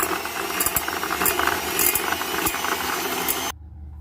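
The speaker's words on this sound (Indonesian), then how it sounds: "Kemudian kita mixer kedua bahan ini hingga berwarna putih" An electric mixer beats butter and vanilla extract for cupcakes, a loud continuous whirring buzz with rattling clicks of the beaters in the bowl that cuts off abruptly near the end.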